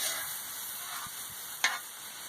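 Steak fries in a pan with a soft, continuous sizzle at close range. A brief louder crackle rises partway through, with faint clicks underneath.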